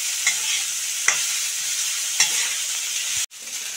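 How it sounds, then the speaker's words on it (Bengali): Bitter gourd frying in fish oil with turmeric and salt, a loud close sizzle broken by three or four sharp stirring scrapes against the pan, then a brief cut near the end. "উচ্ছেটা অনেকটাই ভাজা হয়ে গেছে"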